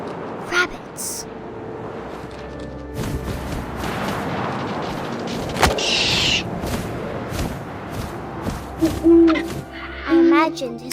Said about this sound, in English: And suddenly, I was an owl.